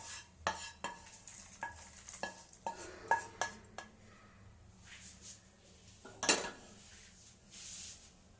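A spoon stirring dry fruits into roasted besan in a metal pan, giving a series of distinct scrapes and knocks against the pan with quiet gaps between them, followed by one louder clatter near the end.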